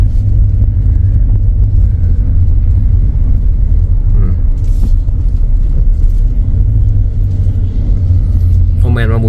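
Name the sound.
car driving on a road near Vientiane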